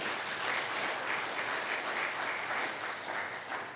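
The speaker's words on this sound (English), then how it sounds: "Can we clap for the students, please?" An academic conference audience claps for students, giving soft, steady applause that continues evenly for about four seconds at a moderate distance.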